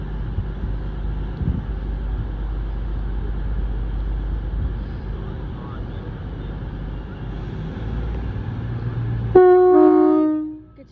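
Passenger train at Torquay station, a low rumbling idle with station noise, then a loud tonal horn blast near the end that fades out quickly.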